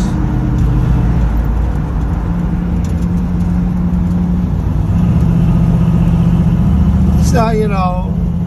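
A Ford Mustang Mach 1's 351 Cleveland V8 runs at a steady, even idle, a continuous low drone heard close up while someone talks briefly over it, with a short high chirp near the end.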